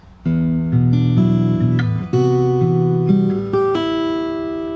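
Fingerstyle acoustic guitar plays a bar of a song, with plucked bass notes and ringing chords that shift every second or so. The playing is close and clear, with no voice.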